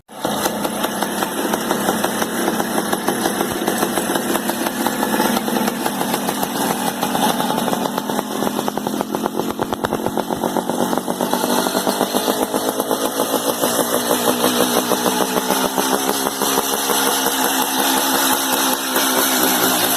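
A custom Mad Max-style petrol motorcycle engine runs loud and close, a continuous rough, pulsing exhaust rumble that climbs and holds as it is revved, with no talking.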